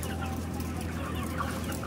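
Chickens cluck softly in a controlled broiler shed over a constant low hum of running fans, with scattered bird calls throughout.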